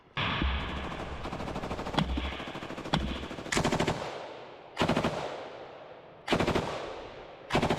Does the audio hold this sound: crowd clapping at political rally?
no